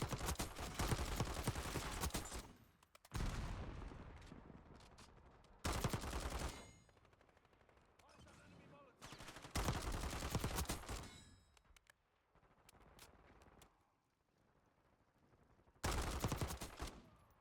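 Repeated bursts of automatic fire from the CR-56 Amax rifle in a video game, loud sustained volleys separated by quieter gaps with faint background noise, recurring about five times.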